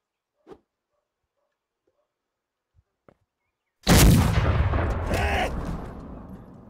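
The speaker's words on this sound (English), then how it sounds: "Now I'm going to prime the gun to fire it." A cannon fires in the Civil War video game Battle Cry of Freedom: a few faint clicks, then one loud, sudden boom that rumbles and fades over several seconds.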